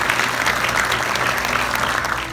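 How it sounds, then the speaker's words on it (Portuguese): A congregation applauds at a women's church gathering, a continuous, full wash of many hands clapping at fairly strong volume that tapers slightly at the end. "E aí pode aplaudir"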